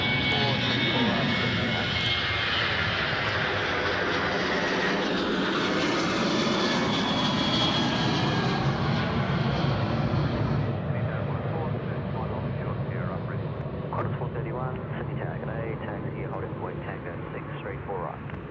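Airliner engines roar at Sydney Airport, a loud sustained jet rumble that swells and then slowly fades as the aircraft moves away, while people talk over it.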